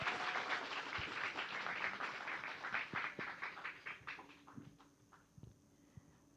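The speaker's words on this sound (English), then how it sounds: "Please give a round of applause." An audience applauds, a dense burst of clapping that gradually thins out into scattered individual claps before fading.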